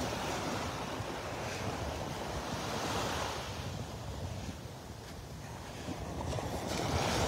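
Ocean surf rolls steadily onto the beach at Delnor-Wiggins Pass State Park, a continuous wash of waves mixed with gusting wind buffeting the microphone, and no voices.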